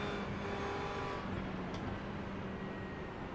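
LMP1 race cars in the iRacing simulator produce a steady engine drone and road roar, with a brief whoosh as a faster car passes partway through. No voices.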